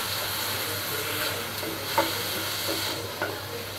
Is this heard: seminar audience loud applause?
no